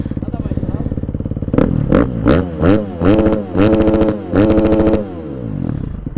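A KTM SXF 350 dirt bike with a loud exhaust idling close by, then blipped through a series of sharp, rapid revs before settling back to a steady idle.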